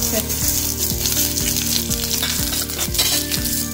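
Chopped small shallots hit hot oil for a puliyanam tempering, giving a loud, steady sizzle broken by regular stirring scrapes about twice a second.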